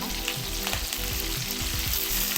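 Chillies and curry leaves fry in oil while a spoon keeps stirring them, a dense, loud, continuous sizzle with soft scraping strokes underneath, heard up close with no voices.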